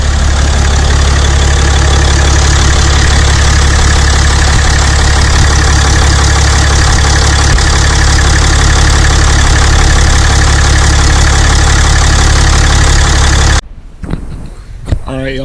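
A 6.7 Cummins diesel with a Smeding S369 SXE turbo idles loud and close, its steady low rumble unbroken for about thirteen seconds before cutting off abruptly to quiet handling noises.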